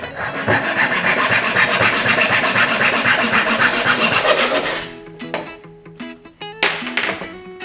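Hand saw rasping back and forth through a metal shaft in a workshop, steady loud rhythmic strokes for several seconds, then a few lighter taps and scrapes as the cut finishes.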